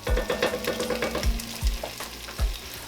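Onions and tomato paste for beef stew sizzle in a pot with a steady, close frying hiss, broken by a few soft thuds of a spoon stirring at regular intervals, no voices.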